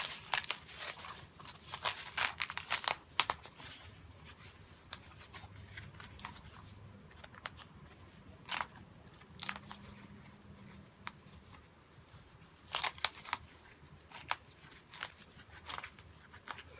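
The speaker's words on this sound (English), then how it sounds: "now I'm going to remove the topper, and I'm going to rip away as much as I can" Tear-away embroidery topper is ripped from a stitched pet dining mat in quick bursts of short crinkly tearing and rustling, broken by quieter pauses and a few louder snaps.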